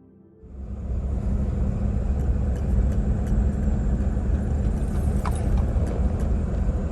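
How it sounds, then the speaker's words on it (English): Steady traffic on a busy road in the rain near mountains along the Appalachian Trail, a continuous loud rumble of passing vehicles that swells in over the first half-second and holds without a break. "It's a busy road."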